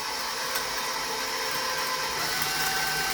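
An electric mixer on second speed whisks 300 grams of melted chocolate into eggs, giving a steady, even whirring drone that holds at one level throughout with no voices.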